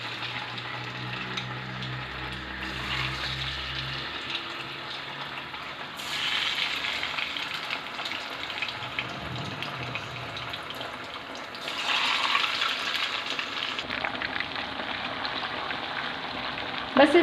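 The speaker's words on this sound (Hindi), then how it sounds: "ये अब इसमें हम डीप फ्राई कर लेंगे इस चिकन को" Chicken tikka pieces deep fry in hot oil over medium heat, giving a continuous loud sizzle and crackle that swells at times, with faint speech in the background.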